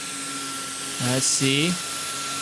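A Samsung stick vacuum cleaner runs on carpet with a loud, steady high whine throughout, and a person briefly speaks over it.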